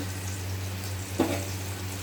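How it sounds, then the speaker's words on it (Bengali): Sliced pointed gourd (potol) shallow-frying in a pan gives a faint, steady sizzle over a low hum, with one brief clink partway through. "এই যে পটলটাকে এরকম করে হালকা করে ভেজে নিয়েছি"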